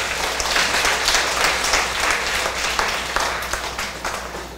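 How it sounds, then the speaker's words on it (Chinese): An audience at a closing session of an advanced administrative class claps in thanks for Zhang Wenyan, a dense, sustained round of applause at moderate distance with no talking. "那各位同学，我们再次用掌声谢谢我们张文彦议长。"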